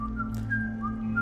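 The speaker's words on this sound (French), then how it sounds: "Il siffle parce qu'il s'ennuie." The idle character in Book of Demons whistles a short, clear tune of a few sliding notes over a steady low drone, close and alone.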